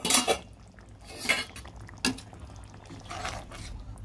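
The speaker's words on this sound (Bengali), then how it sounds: "ঢাকাটা তুলে নিচ্ছি।" A lid lifts off a pot of Bengali doi katla fish curry with a few short metallic clanks and scrapes spread over several seconds, close by and moderately loud, with no talking.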